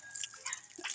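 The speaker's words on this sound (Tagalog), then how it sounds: "Yeah, daming aso ron." Dogs along an outdoor jogging route, heard as faint, brief canine noises with a soft whimper-like quality, distant and quiet.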